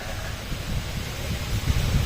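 Strong typhoon wind roars outdoors in a steady, dense rush with gusty low buffeting against the microphone and no voices.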